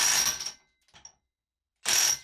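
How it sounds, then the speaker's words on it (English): A Makita 18V impact wrench tightens to 278 Nm in two loud, dense hammering bursts, each about half a second long, separated by a faint short rattle and a stretch of silence. "Again, all three impact wrenches handled it very quickly."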